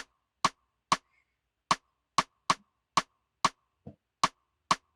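A woody rim knock repeats in a steady, syncopated pattern, about ten crisp hits with silence between them and no other sounds.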